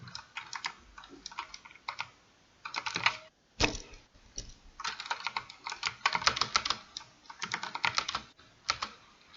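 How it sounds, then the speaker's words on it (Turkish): Rapid typing on a computer keyboard, bursts of clicky keystrokes separated by short pauses, fairly close and quiet, with no talking. "Klavyenin sesi az geliyorsa kusura bakmayın mikrofonu birazcık uzaklaştırdım."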